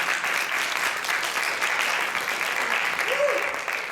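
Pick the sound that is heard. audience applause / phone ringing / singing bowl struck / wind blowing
audience applause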